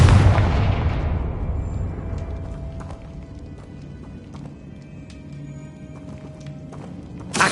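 Confringo fire spell from Hogwarts Legacy goes off in a loud opening blast with a crackling, rumbling burst, then trails into a low lingering roar, and a sharp hit lands right at the end.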